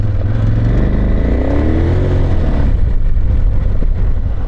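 A nearby adventure motorcycle rides at steady speed with a loud, continuous engine drone and wind rush, its pitch rising and falling slightly as it rolls along a road toward a campground.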